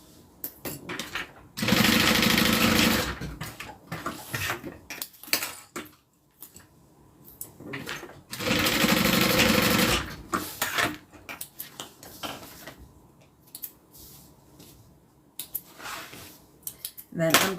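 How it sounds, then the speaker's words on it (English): A sewing machine stitches a wallet in two sustained runs of rapid, loud needle chatter, separated by pauses filled with clicks and handling noises. "go ahead and sew that down"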